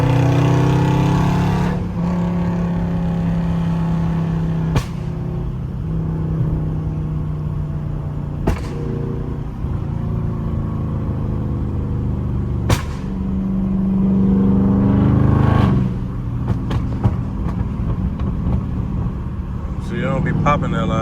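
A Dodge Charger Scat Pack revs in the city, its exhaust swelling in a few rises with sharp pops and crackles between them, while someone talks over it close by.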